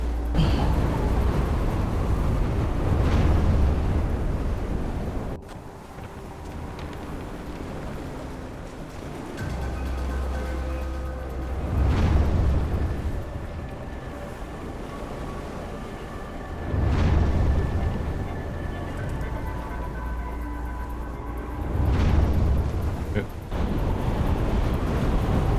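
Wind blows steadily in the Never Alone video game, a broad, continuous rushing whoosh that swells and eases in slow waves over about half a minute, alongside low rumbling gusts.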